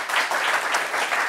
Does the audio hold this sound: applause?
yes